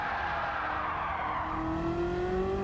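Race car in Gran Turismo 7 powering out of a high-speed corner, its engine note steady and loud with a rising tone as it accelerates, plus a faint tire skid along the way, no talking.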